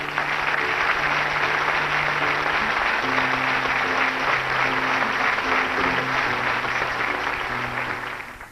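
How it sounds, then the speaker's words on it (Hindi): A studio audience gives loud, steady applause to welcome a guest who won 6.5 lakh rupees on KBC, with sustained dense clapping over a musical backdrop that fades out at the end. "जोरदार तालियों से स्वागत करिए"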